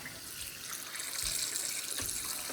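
Tap water runs steadily into a kitchen sink while pork neck bones are rinsed under it, a continuous close splashing stream with a few heavier gushes as the bones shift.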